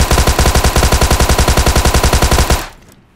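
A gun with a 50-round magazine fires a loud, rapid automatic burst in a mobile battle royale game. The shots form a steady, even stream for about two and a half seconds, then stop abruptly.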